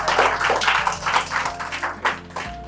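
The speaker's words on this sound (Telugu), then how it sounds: "ఒక్కసారి క్లాప్స్ కొట్టండి" An audience applauds at a children's costume contest of Shivaji and Shambhaji outfits, with dense, steady clapping from many hands up close over a low background hum, lasting the whole stretch and thinning slightly near the end.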